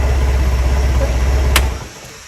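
A propane forklift's engine idles with a steady low rumble close by, then is switched off and winds down into near silence.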